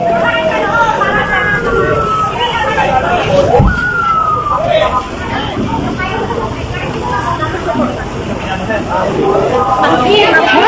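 A wailing fire truck siren rises and falls over a busy crowd at a large fire in Pulilan, Bulacan, with people talking and shouting throughout in a loud outdoor scene.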